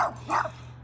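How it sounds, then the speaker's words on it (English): A dog barks twice in quick succession, fairly close and moderately loud, over a steady low hum, with no talking. "sorry about the dog"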